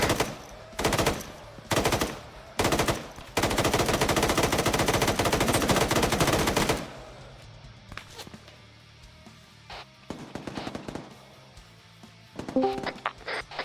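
Gunfire in ARMA 3, set in an Iraqi desert: several short loud bursts, then a long sustained automatic volley, followed by quieter scattered distant shots and faint footsteps.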